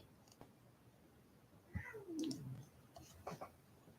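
A pet cat named Tora meows out loud, one drawn-out, rising-and-falling meow near the microphone, followed by a shorter second call, with quiet room background between.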